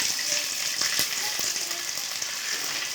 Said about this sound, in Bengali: নারকেল কুচি দিয়েছি এবার এটাকে একটু নেড়ে ছেড়ে নেব